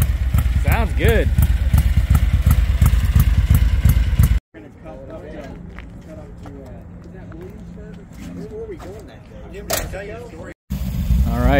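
Vintage motorcycles rumble away from a bike night, a loud throbbing engine close at first, then quieter engine noise with revving and passing machines, and people speaking over the sound.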